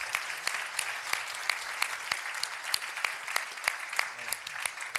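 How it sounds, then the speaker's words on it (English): A conference audience in an auditorium at a plenary session on global trade applauds a panel, with dense, steady clapping and distinct sharp claps, sustained evenly without any talk. "Big round of applause for this extraordinary panel."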